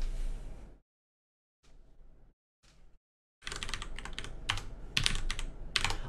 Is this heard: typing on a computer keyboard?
yes